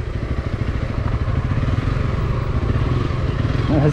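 A motorcycle engine idles and revs steadily at close range with a buzzing, throbbing tone during a fun rally ride, with faint clatter alongside.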